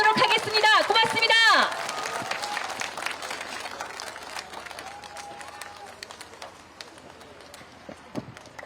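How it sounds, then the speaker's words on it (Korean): A crowd at an outdoor election rally in a Daegu park applauds. Scattered claps and murmuring fill the background after a brief burst of voices and cooing birds at the start, then thin out into sparse, moderately distant clapping. "여러분 큰 박수 주시겠습니까?"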